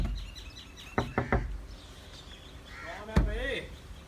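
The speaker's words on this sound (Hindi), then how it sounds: "दरवाजा खटखटाओ" Knuckles rapping on a door, a quick run of three sharp knocks followed by one more solid knock after a pause, close and fairly loud, with faint birdsong and a brief voice in the background.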